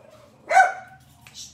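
A single sharp, close dog bark rings out loudly in an otherwise quiet room, followed a moment later by a shorter, softer yip.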